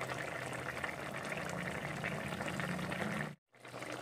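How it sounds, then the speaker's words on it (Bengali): Mixed five-vegetable curry bubbling in a pot, a steady close simmering hiss and burble throughout, broken by a brief silent gap near the end before resuming. "দেখো আমার সবজি ফুটছে"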